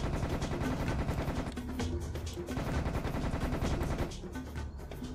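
Rapid, dense gunfire from a PC shooter demo running on an Nvidia GeForce 6600 graphics card, with continuous machine-gun bursts and overlapping shots, loud and unbroken for several seconds before easing slightly near the end.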